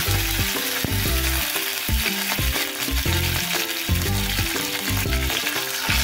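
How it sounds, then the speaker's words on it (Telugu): Urad dal, mustard seeds and dried chili pieces frying in oil, a loud, dense crackling sizzle heard throughout, with rhythmic tonal sounds running underneath. "1 స్పూన్ మినప్పప్పు, 1 స్పూన్ ఆవాలు, 2-3 ఎండుమిరపకాయ ముక్కలు యాడ్ చేసుకొని గోల్డెన్ కలర్ వచ్చే వరకు ఫ్రై చేసుకోవాలి"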